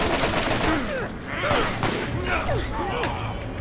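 Gunfire from the Borderlands video game rings out in rapid bursts of repeated shots over a few seconds, with a voice talking over the action.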